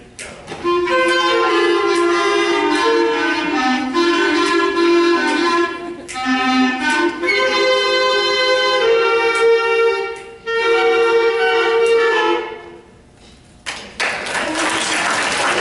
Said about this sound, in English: We'll show you what the clarinet sounds like here.